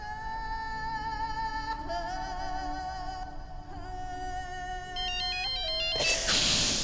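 A mobile phone plays a melodic electronic ringtone, steady tonal phrases repeating for several seconds before a louder, brighter burst near the end, with no one talking.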